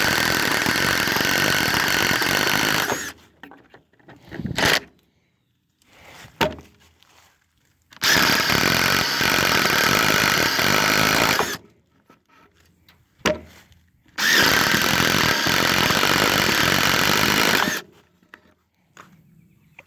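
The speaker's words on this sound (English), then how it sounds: "This is a 3/4 inch Irwin paddle bit." A drill fitted with a 3/4 inch Irwin paddle bit bores into a 2x8 board, giving three loud grinding bursts of several seconds each, separated by pauses with faint handling noise and short blips.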